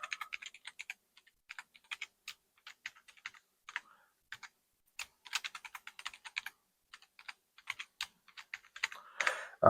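Someone types a password on a computer keyboard while setting up a budget UNRAID NAS, with quick irregular bursts of key clicks, close and clear, then a louder clatter at the end; no one speaks.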